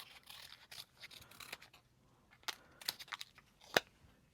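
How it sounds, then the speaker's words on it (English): Scissors trim around the edges of a small piece of paper for a tiny framed botanical magnet, giving a series of faint, quick snips and crisp cuts that grow sharper near the end. "cut around the edges a little bit more."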